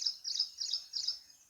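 Several birds chirp among flowering, fruit-laden trees, with bright, high, repeated tweets coming in short bursts about every third of a second. The calls are fairly faint and no one talks over them.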